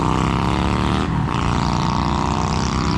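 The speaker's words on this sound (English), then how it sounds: "You gotta love those loud motorcycles." Loud motorcycles passing close by on a city street near a historic park, a continuous roaring engine drone with a brief dip in the middle before the rumble resumes at full strength.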